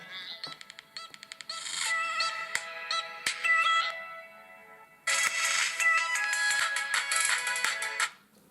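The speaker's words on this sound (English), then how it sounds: "So the music will come from this spot here inside the phone." A bright electronic tune plays through the small internal speaker of an HDC Galaxy Alpha 4.7-inch smartphone, thin and tinny, starting with plucked notes, briefly pausing, then resuming louder before cutting off.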